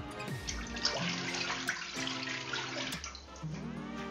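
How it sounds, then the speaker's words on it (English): Water pours steadily into a pan in a home kitchen, a continuous faint splashing stream with shifting gurgling pitch. "Pour the water in a pan."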